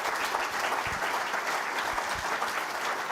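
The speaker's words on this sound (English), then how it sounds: "can we give John a huge round of applause?" Audience applause fills a room after a talk at a brain injury awareness event, steady clapping from many hands at moderate level with no voices over it.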